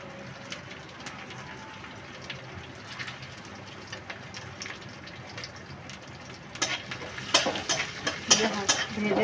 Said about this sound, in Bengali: হালকা করে ভেজে নিয়ে।